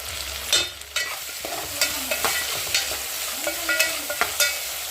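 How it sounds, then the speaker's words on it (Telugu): Food sizzles steadily in a pan on the stove while being fried for a Sunday upma dish, with scraping stirs and clinks of a spatula throughout, close and alone with no talk. "ఫ్రై అవుతా ఉంది కదా"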